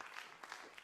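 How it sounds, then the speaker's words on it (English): Audience applause after a spoken-word poetry reading, a short, steady wash of clapping heard at a slight distance with no voices over it. "please give a round of applause"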